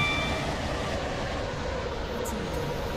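A train rolls into a station in the Roblox SCR railway game, a steady broadband rumble holding at even loudness throughout with faint high tones near the start.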